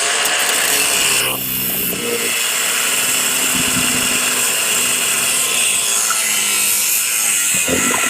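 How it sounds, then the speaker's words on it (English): A Milwaukee 18V cordless angle grinder with a brand-new wheel cuts into inch-thick metal stock, giving a loud continuous grinding whine with rough rasping that shifts as the wheel bites. "I'm going to use both my Milwaukee angle grinder and my Harbor Freight one"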